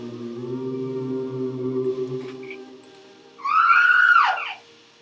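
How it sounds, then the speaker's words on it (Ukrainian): A video game's eagle-cry ability sounds as a shrill, descending screech lasting about a second, loud and close, after a stretch of low sustained humming tones. "Ось такий от крик орла"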